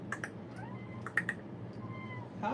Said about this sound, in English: Oh, is that your cat? That was my cat.